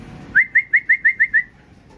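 A bird in a Taiwan breeding cage gives a quick run of seven clear, evenly spaced cooing whistle notes, close and loud, with no talking.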